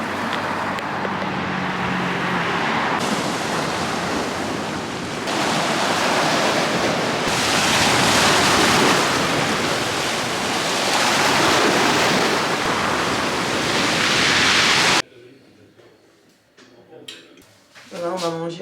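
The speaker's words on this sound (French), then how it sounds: "Il y a la mer juste tout droit de l'autre côté." Aegean Sea waves washing onto the shore across the street, a loud continuous roar mixed with wind and passing traffic, cutting off abruptly to quieter sounds with brief talk at the end.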